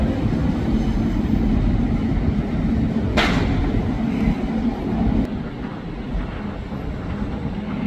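A KRL commuter electric train at Manggarai station, a JR 205 or TM 600 set, rumbles loudly and continuously along the platform. A sharp metallic crack cuts through near the middle, and the noise eases slightly in the last seconds.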